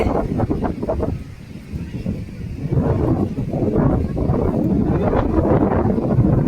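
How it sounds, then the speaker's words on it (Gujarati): Strong wind buffets the microphone on Tithal beach near Valsad, Gujarat, a steady low roar with gusty surges that build louder after the first few seconds, with no voices. "તમે જોઈ શકો છો, જબરજસ્ત પવન છે."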